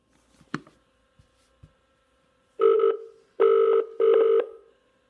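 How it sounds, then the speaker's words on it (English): A Parrot 3200 car phone kit dials a number. After a few soft clicks, three steady electronic tones play in a short sequence, loud and clear against near silence. "You can hear it dialing away."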